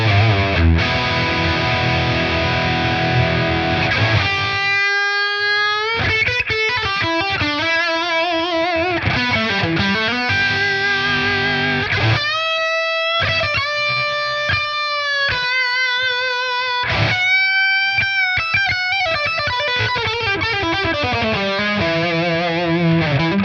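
An electric guitar runs through the Crack-In Ultimate ToneX capture of a Victory amp at its highest gain setting, playing heavily distorted sustained notes and bends with sharp stops and restarts, loud and alone throughout.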